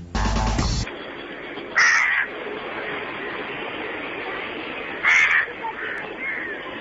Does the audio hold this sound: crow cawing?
yes